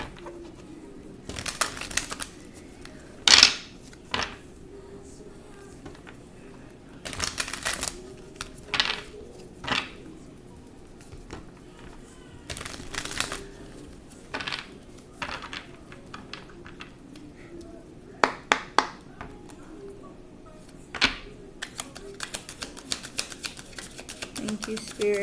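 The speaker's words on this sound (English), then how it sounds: "Let me shuffle." Tarot cards are shuffled by hand in repeated short riffling and flapping bursts across about twenty-five seconds, close and crisp, with a voice speaking at times between them.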